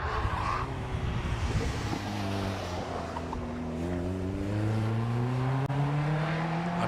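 Caterham 1600C Super 7 sports car at the Prescott hillclimb, engine note climbing steadily through the gears as it accelerates, loud and sustained without a break.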